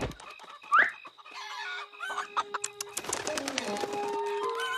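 Cartoon chickens cluck and squawk in a brief burst of hen calls, with a louder squawk near the start and busier cartoon sounds building toward the end.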